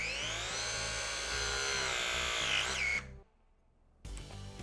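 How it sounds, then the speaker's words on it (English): A MeritPress press tool crimps a copper press fitting: a loud, steady mechanical motor whine runs for about three seconds, cuts off abruptly into near silence, then resumes briefly. No voices. "securely place the jaw around the fitting, make sure it is centered and straight, and then activate the tool."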